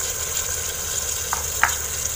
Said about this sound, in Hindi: टमाटर डालने के बाद अब हम इसे तब तक भूनेंगे जब तक टमाटर हमारी अच्छी तरह सॉफ्ट नहीं हो जाते